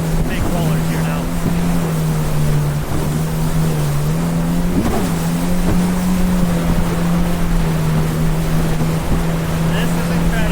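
A 2024 Yamaha VX Cruiser HO personal watercraft rides big ocean rollers off Sanibel Island, Florida. Its engine drones loud and steady, rising and dipping slightly, with wind and spray rushing around it.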